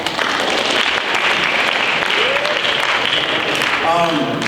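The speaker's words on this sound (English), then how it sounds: "So clap for yourselves for that." Audience applause at a gun control debate, a steady broad wash of many hands clapping throughout, with a few faint voices and a brief tonal sound near the end.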